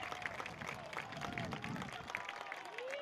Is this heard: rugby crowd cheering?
yes